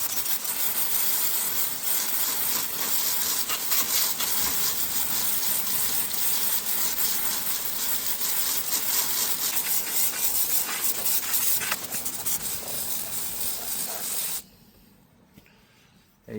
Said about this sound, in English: now we'll take our hose and